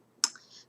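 A single sharp mouse click selecting the Fly In animation in PowerPoint, close and fairly quiet, with a short faint tail after it.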